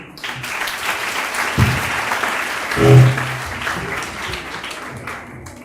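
Applause from an audience at a Grade 6 graduation ceremony, a dense wash of clapping that swells briefly in the middle and continues steadily to the end.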